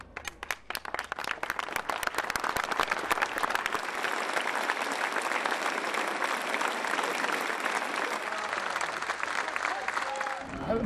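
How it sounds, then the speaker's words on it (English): Spontaneous applause breaks a silence among a large outdoor crowd in Manchester, starting with scattered claps and swelling into sustained, dense clapping that holds steady, with a voice emerging near the end. "The silence was broken by spontaneous applause."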